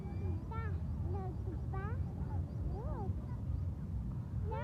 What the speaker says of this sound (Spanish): Son patas, cuac, cuac, cuac.